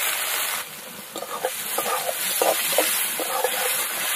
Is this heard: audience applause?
no